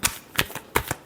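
Tarot cards are shuffled close by in about four quick papery flicks within a second, fairly soft.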